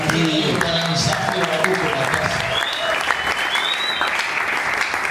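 A church congregation claps steadily and loudly in praise throughout, a dense continuous wash of applause with some voices mixed in during the first half.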